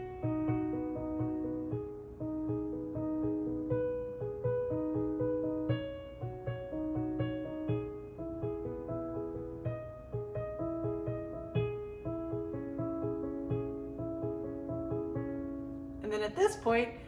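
A piano plays the intro of a song at a slightly quicker tempo, a steady flowing pattern of arpeggiated chords with a soft bass line, close and continuous for about sixteen seconds.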